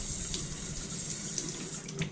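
Hot water pours steadily from a tap during a recirculation pump test, a constant close hiss and splash with no talking.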